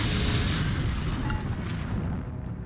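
Explosions from LAM mines set off by robots in the video game Deus Ex: a sustained, loud, low rumbling boom with crackling bursts that rolls on across the whole stretch without talk.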